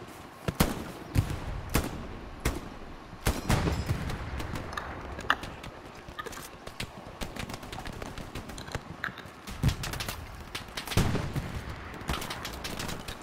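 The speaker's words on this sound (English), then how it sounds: "what the hell is shooting at you?" Gunfire in the World War II shooter Hell Let Loose: sharp rifle and machine-gun shots crack out irregularly, some close and loud, others more distant, over a constant battlefield din.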